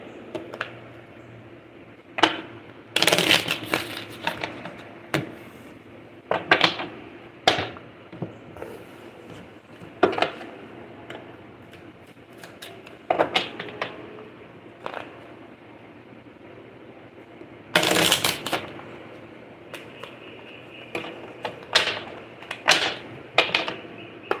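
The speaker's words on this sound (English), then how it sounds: "Let me reset the cards for you." Tarot cards being shuffled by hand, heard as repeated bursts of riffling, tapping and card knocks scattered irregularly across about 24 seconds, close and fairly clear, with no talking.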